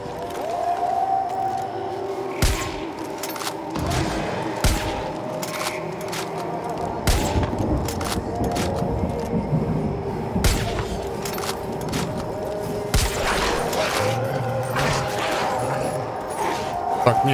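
Gunfire in the video game Far Cry 5 during a final boss fight, with repeated sharp shots and bursts scattered over a droning tonal score, with someone talking throughout.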